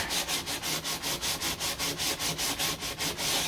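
Sandpaper of 80 grit rubs along the edges of a 1969 C3 Corvette deck lid in quick, even back-and-forth strokes, about sixteen rasping passes close up with no talk.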